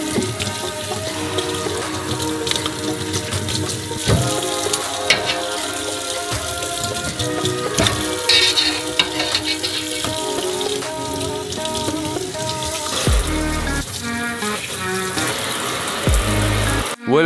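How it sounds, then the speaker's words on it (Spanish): Bones and meat for pho bo are rinsed under a running kitchen tap, with a steady spatter of flowing water under continuous background music. "Y además enjuagamos los huesos y la carne con agua corriente."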